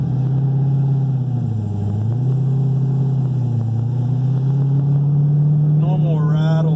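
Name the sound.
2010 Corvette Z06 with new exhaust running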